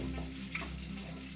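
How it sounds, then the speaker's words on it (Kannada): Dry fruit, raisins and cardamom powder are stirred together for Sankranti ganada unde laddu, a soft continuous stirring rustle with a faint sizzle underneath, quiet and close, with no voices. "ಇದನ್ನೆಲ್ಲ ಮಿಕ್ಸ್ ಮಾಡ್ಕೊಬೇಕು."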